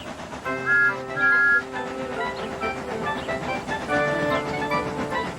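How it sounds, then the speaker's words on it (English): Steam whistles sound in several short tonal blasts, two brief bursts early and another held call later, over a soft background. "They whistled impatiently."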